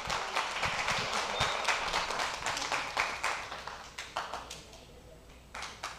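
Audience applause at a university storytelling fair, moderately loud with distinct individual claps, steady at first and then thinning out into scattered claps toward the end, with no speech.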